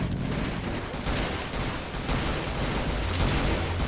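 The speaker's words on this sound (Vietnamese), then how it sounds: "Đây là mình cầm mấy khẩu súng dị đi bắn này vui" Rapid bursts of gunfire from odd weapons in the shooter game CrossFire, dense and continuous, loud and close with no talking.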